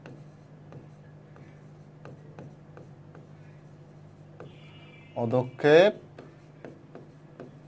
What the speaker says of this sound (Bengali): আমি একটু ডিফারেন্ট কালারে লিখি